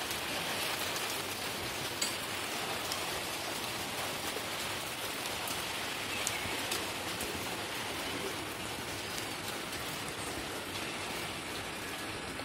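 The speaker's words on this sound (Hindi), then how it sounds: "फिर से बारिश आ गई है हमारे यहाँ" Steady, dense rainfall pours down outdoors at a home during a monsoon shower, a constant even hiss of drops on surfaces that holds for the whole stretch, with no voices over it.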